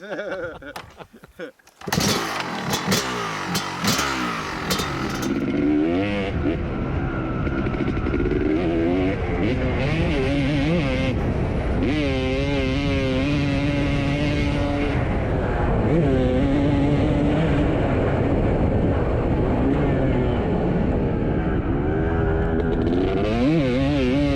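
Honda CRF450R dirt bike ridden hard on a lap: a loud engine revs up and down repeatedly through gears, with sharp rising and falling pitch sweeps, continuous and close for over twenty seconds after a brief rough start.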